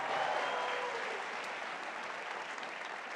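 An audience at a fan meet with filmmaker Imtiaz Ali applauds, producing a steady, dense wash of clapping that tapers slightly over a few seconds.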